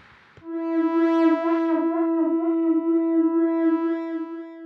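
Wavetable synth string note with a short echo chorus and pitch wobble, a sustained loud tone with a rhythmic wavering shimmer, preceded by a brief noisy attack at the start.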